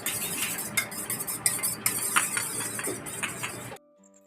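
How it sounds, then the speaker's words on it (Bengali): Eggs being beaten with salt in a bowl for frying, a steady rapid scraping and clinking of utensil against the bowl for several seconds, close and fairly loud, then stopping abruptly. "আমি না মানে ডিমটা অনেকক্ষণ ধরে ফ্যাটাই, মানে নুনটা ঘোলাতে হয় তো"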